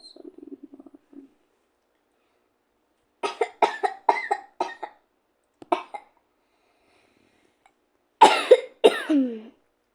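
Several sharp coughs in a burst, then a pause and a couple of harsher, louder coughs near the end; a brief low gurgle comes first.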